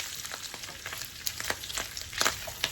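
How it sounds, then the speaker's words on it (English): Sausage sizzling in a frying pan alongside bacon, a steady soft crackle with scattered pops, close but fairly quiet. "we're just going to fry our sausage until it starts to get a little bit brown"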